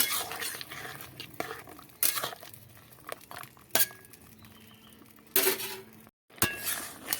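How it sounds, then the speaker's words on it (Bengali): Dried lentil dumplings (bori) poured into a pan of ridge gourd curry and stirred, with clinks and scrapes of a utensil against metal, short taps and rattles scattered across the moment, fairly close. "এবার আমি এই বড়িগুলো ঢেলে দেব বড়িগুলো দিয়ে জাল দেব"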